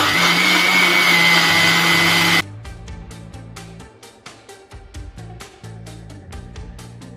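A blender whirs loudly and steadily as it mixes milk and sugar, running for about two seconds before cutting off abruptly, after which light music plays.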